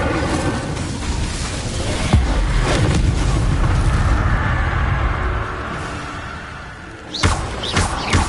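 Fiery spell blasts of Confringo and Incendio in Hogwarts Legacy, with a heavy boom opening a sustained roaring, crackling rumble, then a fresh burst of impacts near the end, loud and close with no talking.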